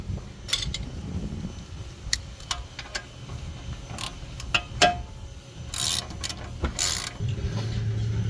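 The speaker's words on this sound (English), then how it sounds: "the new bolts need to get tightened down" A ratchet tightening new brake bolts during a front brake pad job on a Mercedes E350: irregular metallic clicks and ratcheting bursts, close and moderate, with short pauses, tool handling and a low garage rumble underneath.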